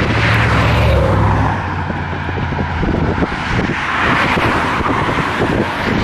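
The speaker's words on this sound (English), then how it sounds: "Bus is going that way now." A bus drives past outdoors with a broad, rushing roar. A low engine drone fades early, then road and wind noise swell and ebb steadily.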